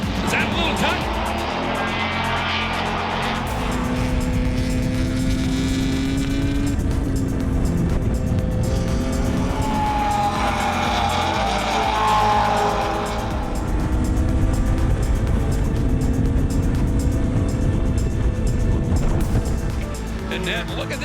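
Race cars at Lime Rock Park under green-flag racing, engines droning steadily with rising and falling pitch as they run close together, a brief tire squeal in the mix, continuous loud motor noise beneath ongoing commentary.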